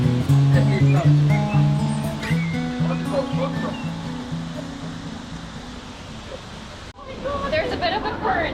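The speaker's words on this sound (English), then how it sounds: "we're coming into the waterfall now" The La Leona waterfall and river current on a volcano hike in Costa Rica give a constant rushing roar of water, heard close while people talk and call out over it as they wade in holding a rope.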